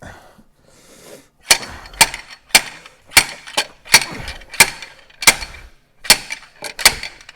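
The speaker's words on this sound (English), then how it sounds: "So slightly larger slide hammering device second time round" A slide hammer strikes repeatedly while pulling a stuck diesel injector on a Mercedes Vito: about ten sharp metallic clacks at a steady, slightly uneven rhythm, loud and close, with no talking.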